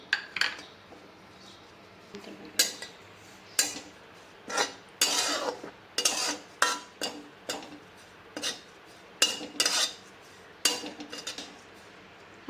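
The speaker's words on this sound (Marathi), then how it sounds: "आता आपलं खोबरं छान सोनेरी रंगावर भाजून झालेलं आहे" A quarter cup of dried grated coconut roasts golden in a hot kadhai, stirred with a metal spatula; a dozen or so sharp scraping clinks come at an irregular rhythm, close and clear against a quiet kitchen.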